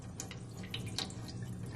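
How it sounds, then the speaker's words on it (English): Water poured out of a bowl of pomegranate seeds to float off the pith, a steady splashing trickle with a few brighter drips, close and alone. "I'm going to pour some of it out to get the floating pith out."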